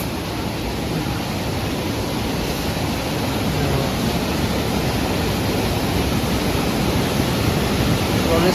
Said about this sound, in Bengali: স্রোত দেখো, উপর আসছে।